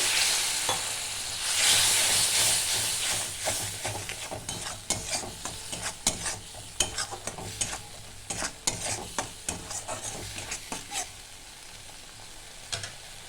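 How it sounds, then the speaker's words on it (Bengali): Puti fish curry frying in a pan, with water poured in, giving a steady sizzle with scattered crackles and stirring scrapes throughout, close and fairly loud, with no talking. "একটু জল দিচ্ছি"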